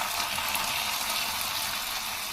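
Hot tempering hits a pot of sambar with a steady, bright hiss that runs unbroken and close for a couple of seconds, with no talk.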